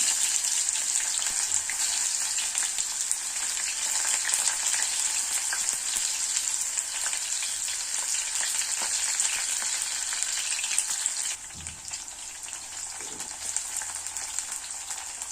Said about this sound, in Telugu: ఆయిల్ కొంచెం వేడైన తర్వాత ఒక ఉల్లిపాయ నిలువుగా చీల్చుకొని వేసుకున్నాను